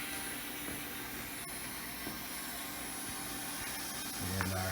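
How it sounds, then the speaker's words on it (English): An electric fuel pump in a 1986-1997 Ford Mustang hums steadily, a broad continuous whir with a faint lower tone joining near the end. "So let's go ahead and turn the pump on."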